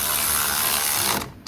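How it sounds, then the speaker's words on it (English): A ratchet clicks rapidly and loudly up close while tightening the nuts on the front coil spring top mount of a 2004 BMW 320D, a single short burst that ends with a faint click. "All I'm going to do now is get the ratchet, tighten up on them."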